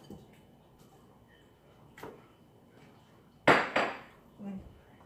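Smoked turkey goes into a cooking pot for Edo/Benin-style yam and owo soup: faint clinks and knocks, then two sharp, louder clattering hits close together, followed by a softer bump.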